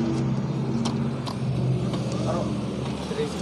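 A bicycle fitted with a Honda Supra Fit motor engine runs with a loud, steady rough drone near at hand. Voices talk over it.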